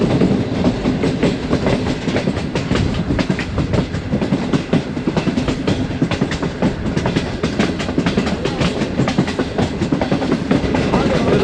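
Awam Express train with a new rake running on rails between Peshawar and Rawalpindi while curving right near Noor Junction, a loud, continuous rumble with steady rhythmic clickety-clack of wheels over rail joints, heard from onboard.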